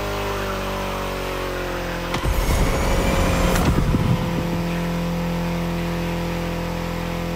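BMW M4 Liberty Walk Edition in The Crew Motorfest, its engine holding a steady drone, then surging into a loud rev burst with gear changes for about two seconds before settling back to a constant hum.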